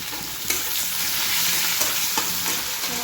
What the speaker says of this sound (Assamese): অলপ তেলটো বেছিকৈ দিছোঁ আৰু এইফালে পিঁয়াজটো দি দিলোঁ